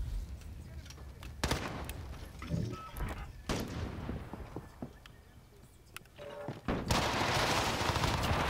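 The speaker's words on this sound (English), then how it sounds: "I wonder where half these shots are coming from." Gunfire in the game Modern Warfare during an online match, with repeated sharp cracks and bursts scattered throughout at varying distances, some loud and close, ending in a sustained noisy burst, mixed with faint voices.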